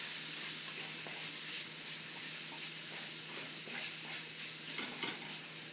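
Taco-seasoned egg roll filling sizzles steadily in a hot pan while a utensil stirs it with soft, scattered scrapes and clicks. No one speaks.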